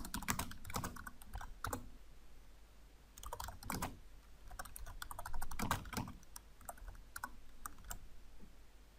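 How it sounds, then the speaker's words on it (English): Fingers type quickly on a computer keyboard, with irregular bursts of close, crisp key clicks and brief pauses between them. "So let's type this real quick."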